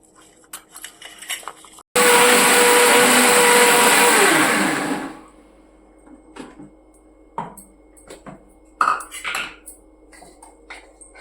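An electric mixer grinder whirs loudly for about three seconds, grinding ginger into paste in a home kitchen, then spins down. Quieter clinks and handling noises of jars and utensils come before and after.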